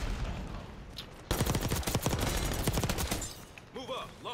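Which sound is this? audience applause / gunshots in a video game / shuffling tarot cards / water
gunshots in a video game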